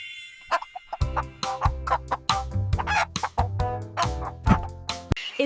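A chicken clucks in quick, irregular bursts, close and clear, with overlapping squawks and throaty calls in a busy run of sound, no talk.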